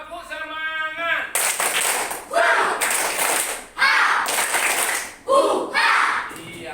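A classroom group performs a rhythmic 'tepuk semangat' clap chant, with loud bursts of patterned clapping in separate phrases. Voices chant and talk along with the clapping.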